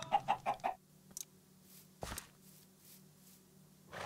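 A few quick, close clucks from a chicken in a video game in a short rhythmic run, then quiet rustling and a single soft thud.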